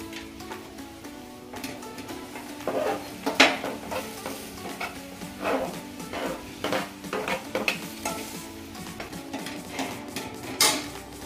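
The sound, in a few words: jaggery being added and stirred in a kadhai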